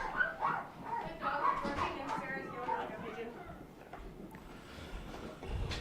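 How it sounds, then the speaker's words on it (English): Dogs fighting and whimpering upstairs, heard muffled as yelps and scuffling through the room, mixed with people talking nearby. "That Sound like dogs are killing each other."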